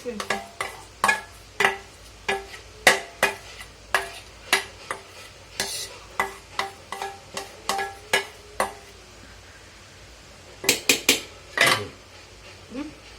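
Sharp metallic clinks and taps from a dhokla pan being set into a steamer stand over boiling water, arriving as a steady run of separate knocks followed by a louder cluster of clatter near the end.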